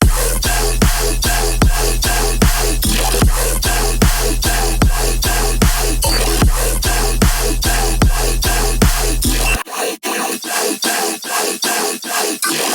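A bass music drop in riddim or dubstep style, with a heavy bass layered over a tonal pad sample, pounds in a steady rhythmic pattern, loud and full, then cuts to a sparser passage near the end.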